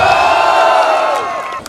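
At a 25-year school reunion, a crowd lets out a loud, sustained shout of "O" mixed with cheering and whoops, fading slightly toward the end.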